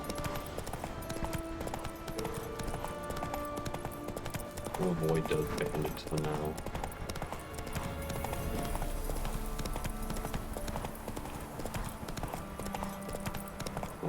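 Horse hoofbeats clip-clop steadily while riding in The Witcher 3: Wild Hunt, set among game music, with someone talking over the galloping throughout.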